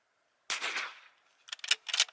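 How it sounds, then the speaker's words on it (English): A Bergara B14R rifle fires at a 50-yard target, one sharp crack followed by a decaying tail and then a cluster of quick clattering bursts, heard fairly close with no talk. "So first shots out of this rifle, I'm going to go for the bottom right diamond here."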